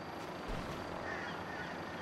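Helicopter in the GTA Online video game, a steady rotor drone running throughout at moderate level with no speech over it.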